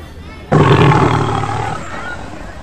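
A tiger lets out a single loud, close roar that starts abruptly and trails off slowly into a rumbling growl over about two seconds.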